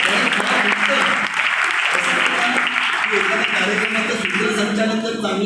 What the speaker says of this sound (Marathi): त्यांना एक जोरदार टाळ्या झाल्या पाहिजे